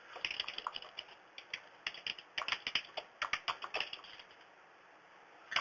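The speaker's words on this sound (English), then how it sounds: "and we can type in a note." A note being typed on a computer keyboard: quick, irregular key clicks in short bursts, close and fairly quiet, ending in a pause with no talking.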